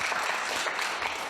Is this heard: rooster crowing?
no